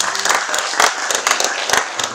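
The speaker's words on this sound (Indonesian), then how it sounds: "Berikan aplaus untuk teman kita." An audience applauds a fellow student at a campus orientation event for an environmental health department, a loud, dense burst of clapping from a crowded room that holds steady throughout.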